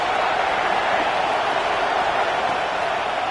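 A stadium crowd in the NCAA 26 college football video game roars steadily, a dense, constant wash of distant cheering with no clear individual voices.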